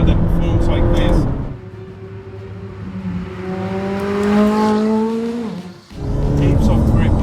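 A 2016 McLaren 570S sports car engine revving hard through the gears, rising tones climbing then dropping at a shift, loud and close with turbo whoosh, a voice talking over it at the start and end.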